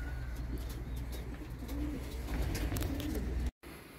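Pigeons coo softly in a loft in Islahiye, Gaziantep, with repeated low murmuring calls and faint chirps over a steady background hum that cuts out briefly near the end.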